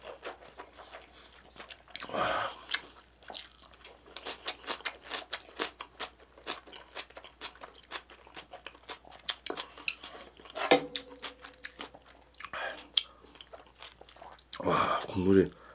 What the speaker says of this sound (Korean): 자, 일단 면 먹어볼게요.